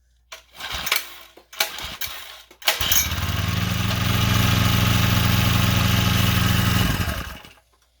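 A small engine is pull-started after a few tugs, runs steadily and loudly for about four seconds, then cuts off.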